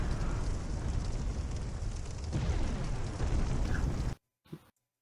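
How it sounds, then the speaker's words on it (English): Heavy explosions from a bombardment in Dark Souls II, a sustained rumbling roar of blasts for about four seconds that cuts off abruptly, followed by one short isolated boom. "Stop with the fucking bombardment, please."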